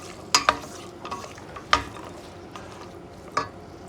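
Carrots go into a pan of pilaf rice: a soft, continuous frying sizzle sits underneath while several sharp clacks of a spoon against the pan break through at irregular intervals, close and fairly quiet.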